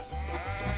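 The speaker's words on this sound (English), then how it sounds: "which is home to lots of goats. Hungry goats." Goats at a dairy farm let out a loud, wavering bleat close by, then a second bleat follows right after it.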